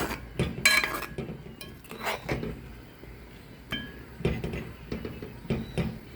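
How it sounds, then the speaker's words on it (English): Paynause being stirred in a pot with a little ghee to stop it sticking: a spoon scrapes and knocks against the pot in irregular strokes with occasional clinks, close and fairly quiet, with no talking. "And you have to keep stirring this too, because if you don't, it will stick, it will burn."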